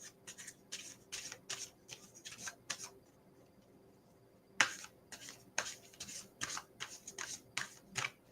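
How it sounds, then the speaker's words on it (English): Tarot cards being shuffled in quick riffling bursts, a pause midway, then more rapid shuffling, close and fairly quiet. "I feel like I need to shuffle, so I'm going to shuffle."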